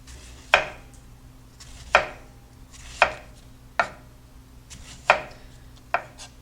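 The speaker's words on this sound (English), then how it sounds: "We're going to start slicing these very thin" Cucumbers being sliced very thin with a knife onto a cutting board, six distinct sharp chops spaced about a second apart, close and crisp over a low steady hum.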